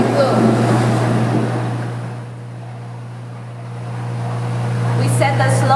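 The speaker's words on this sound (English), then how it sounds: "We turn on the pump on the demonstration flume." A pump drives water through a demonstration flume, giving a steady low hum under broad rushing water that eases off mid-way and swells again. A voice comes in briefly near the end.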